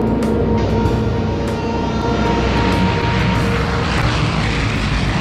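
A propeller plane drones in flight on a fuel delivery run between Stony Rapids and Uranium City, a loud, steady engine roar from inside the aircraft with no talk.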